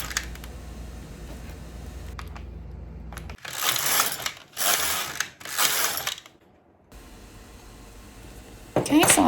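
A knitting machine carriage runs across the needle bed knitting plain rows, giving three loud mechanical sweeps with whirring and clicking, separated by short pauses, with quieter handling noises around them.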